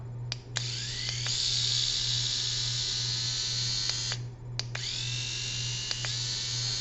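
Babyliss Pro electric shaver running at about 9,000 to 9,500 RPM, a loud, steady high-pitched whir held for several seconds, cutting off briefly and then starting up again close by.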